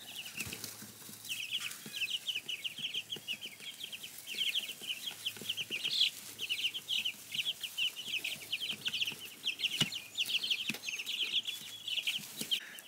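A crowd of three-week-old meat chicks peeps and clucks constantly in a brooder, a dense chorus of high chirps over faint rustling and occasional scratching.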